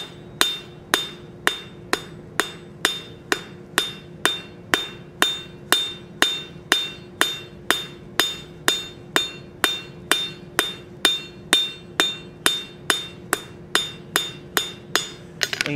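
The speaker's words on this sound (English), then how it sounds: "Now using the cross of our cross peen hammer, we're going to focus down on the very tip of what we just drew out." Cross peen hammer striking hot steel on an anvil while drawing out the tip of a forged bottle opener, with steady, evenly spaced ringing metallic blows repeating about twice per second, loud and close, no talking.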